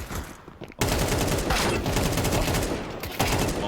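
Rapid bursts of pistol gunfire in a Counter-Strike match at the BLAST Austin Major, loud close shots fired in quick volleys after a short lull, with faint commentary underneath.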